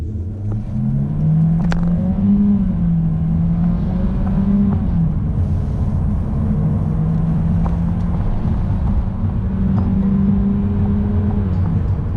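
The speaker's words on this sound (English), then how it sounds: "first let's do a 0 to 60" A Mercedes CLA180 accelerates hard from a standstill to 60 mph, its engine droning loudly with rising pitch through several gear changes, heard steadily from inside the cabin.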